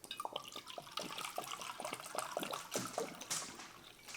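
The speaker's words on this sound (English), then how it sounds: "Now about a 1/2 cup of bourbon here." Bourbon poured into a sauce for peach bourbon wings, a close glugging trickle with rhythmic bottle gurgles and splashes running steadily throughout.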